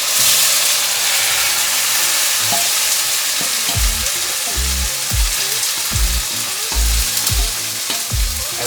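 Loud, dense sizzling of a browned onion mixture frying in a pan for chicken do pyaaza, a constant hiss broken by repeated stirring scrapes and thumps, close up with no talking.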